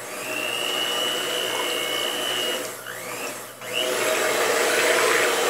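Homemade salt soap mixture being beaten with a mechanical mixer, a continuous whirring motor drone with a brief dip and a change in pitch partway, loud and close with no talking.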